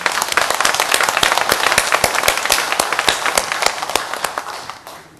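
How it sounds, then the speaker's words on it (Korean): A church congregation claps together during a Korean service, a dense, sustained round of applause that carries for several seconds before thinning out toward the end. "우리 하나님께 영광의 박수 올리겠습니다."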